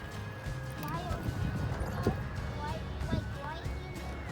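A horse clip-clops forward under a rider during a riding lesson, its hoof beats soft and moderately close beneath an instructor's steady talking.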